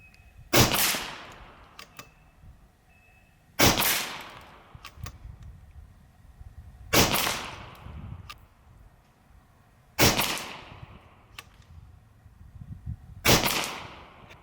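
Five sharp cracks from an FX DRS Tactical .25 caliber air rifle firing 25.4 grain dome pellets at a 50-yard target, evenly spaced about three seconds apart with faint mechanical clicks between.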